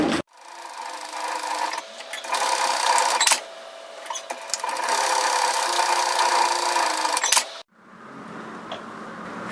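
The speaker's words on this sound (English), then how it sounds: "place your pieces right sides together and sew just like you would" A sewing machine stitches cloth mask pieces together in loud, close mechanical bursts of rapid whirring, with short pauses between runs and a quieter rattle at the end.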